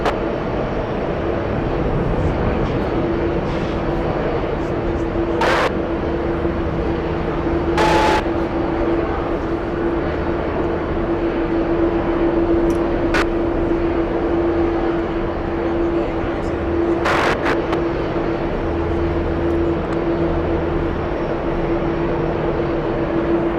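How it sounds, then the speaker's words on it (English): A China Airlines airliner flies from JFK airport, heard as a loud, steady engine roar with a sustained tone throughout, with brief clicks and bursts on top. "Looks like we have China Airlines flying back to Taipei."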